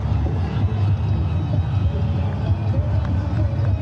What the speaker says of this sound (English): the roar in the crowd tell you all about that one